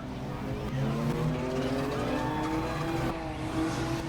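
Race cars circle the track at the Flagpole Race at Auburndale, their engines a steady, continuous roar, with rising and falling tones as the cars pass.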